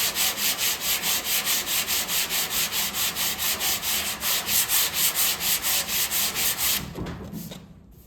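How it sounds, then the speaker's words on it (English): Rhythmic hand sanding of body filler on a car panel, steady back-and-forth scraping strokes about twice a second, close and loud, stopping near the end. "sand a little down here"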